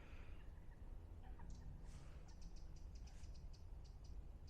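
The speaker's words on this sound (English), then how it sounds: "there's plenty of little birds singing." Small birds sing outdoors on a frozen winter day by a lake, with quick repeated high chirps and short twittering phrases, faint and distant over a low rumbling background.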